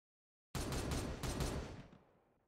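Gunfire volley in Warhammer 40,000: Regicide, a sudden loud burst of several overlapping shots that rings out and fades over about two seconds.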